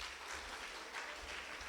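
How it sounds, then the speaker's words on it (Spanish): Audience applause during an education seminar on formative assessment, a short steady burst of many hands clapping, fairly faint and without voices. "Aplauso para ustedes."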